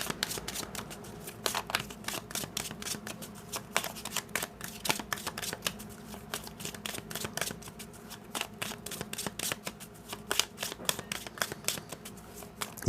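Cigano (gypsy) fortune-telling card deck shuffled by hand in a steady run of crisp riffling flicks and soft slaps, close and fairly quiet, with no talking.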